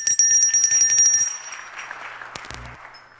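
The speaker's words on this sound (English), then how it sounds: "to ring the bell, a symbol of global unity" A bell is rung ceremonially as a symbol of global unity among consuls general, giving bright ringing tones that decay over a second or so, followed by a faint trailing murmur and a brief clatter.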